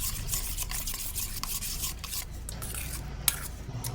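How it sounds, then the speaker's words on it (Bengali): A spoon scrapes and swirls through a chicken mixture with melted butter, giving soft, repeated rubbing and stirring strokes with a small clink, quiet and close with no talk. "দিয়ে ভালো করে মিক্সড করে নিচ্ছি যাতে সব একসাথে মিক্সড হয়ে যায়।"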